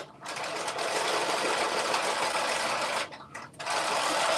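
A domestic sewing machine runs steadily, stitching a narrow seam allowance as the feed teeth pull fabric under the presser foot, with a brief pause and restart near the end.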